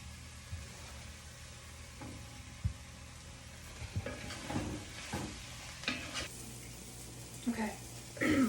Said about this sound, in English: I'm just gonna put the mushrooms in